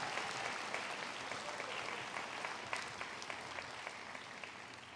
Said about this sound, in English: Give them a round of applause together.